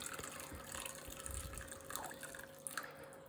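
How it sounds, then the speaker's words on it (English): Hot water trickles gradually into green dessert batter for a no-steam dadar gulung, with faint drips and small splashes against low room noise. "I'm going to add the hot water gradually."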